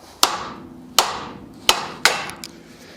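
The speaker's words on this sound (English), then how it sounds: "here's where you grab your favorite hammer and whack this thing out" A hammer strikes a ball joint on a 1967 Chevy Impala four times in steady succession. Each sharp metallic whack rings briefly, and a lighter tap follows at the end.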